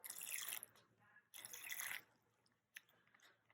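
Water is added to air dry clay inside a plastic bag: two bursts of bright, close splashing and trickling, then a quieter pause with a few soft drips and small wet sounds.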